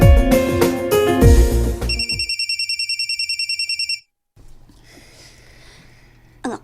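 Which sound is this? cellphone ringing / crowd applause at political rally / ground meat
cellphone ringing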